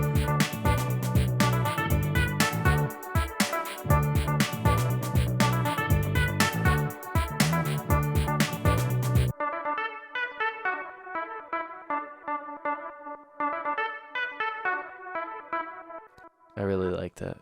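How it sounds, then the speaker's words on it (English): Keyboard solo played with a single guitar note sampled into a keyboard sampler, a dense effected, distorted passage that drops to a sparser run of repeated tones with echo, loud and alone. "I actually recorded a single note on my guitar, and then put it into the keyboard."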